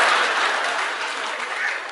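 An audience at a ventriloquism show breaks into applause, a steady, fairly loud wash of many hands clapping together that tapers slightly toward the end.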